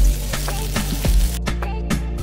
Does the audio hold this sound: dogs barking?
no